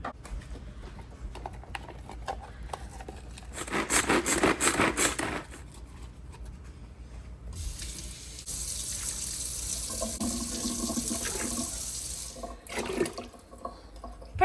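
Tap water runs into a pot being filled with about six to seven cups for pressure-cooking beans, a steady rushing pour in bursts with pauses between, close and moderately loud, no talk.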